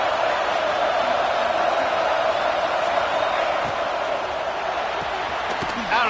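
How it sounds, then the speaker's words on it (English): A packed football stadium crowd at an Ole Miss game roars to help the home defense, a dense, continuous wall of noise with scattered whoops, loud and unbroken throughout. "Listen to this crowd just shaking the girders of this place,"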